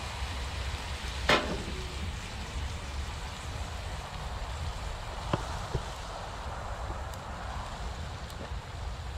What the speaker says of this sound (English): Got a nice sear going on the outside